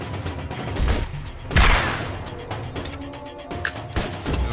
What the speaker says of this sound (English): You're just watching me shoot rockets at this dude.